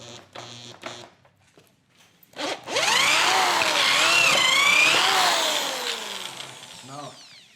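A cheap Hyper Tough corded drill boring holes, a motor whining up in pitch and bogging as the bit bites, with brief rattly bursts first and then a long sustained run, loud and close with no talk.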